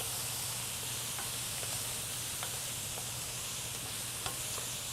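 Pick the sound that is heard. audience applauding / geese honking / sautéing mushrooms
sautéing mushrooms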